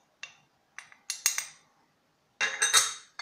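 A dry mix of breadcrumbs, thyme, garlic powder and onion powder is stirred in a bowl with a spoon, giving short scraping clinks in separate bursts and a longer rattling scrape near the end, close and fairly quiet.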